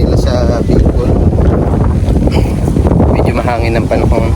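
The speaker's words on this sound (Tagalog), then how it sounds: "Medyo mahangin ng panahon." Strong wind buffets the microphone over wide rice fields in Bicol, a loud continuous roar under someone speaking.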